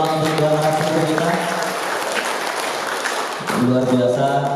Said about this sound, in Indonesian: boleh kita kasih tepuk tangan untuk dua narasumber kita